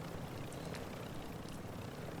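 A player-controlled helicopter flies in the Call of Duty MW2 DMZ video game, a steady low rotor-and-engine rumble with dense noisy texture, continuous and moderately loud throughout without pauses.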